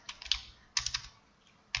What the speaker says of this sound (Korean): 필터 그냥 여기다 타자로 칠게요.